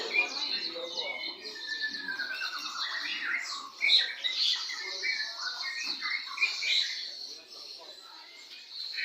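Many caged birds at a busy bird market, among them zebra doves, fill the air with dense overlapping squawks, chirps and tweets, moderately loud and continuous, with a crowd murmuring in the background.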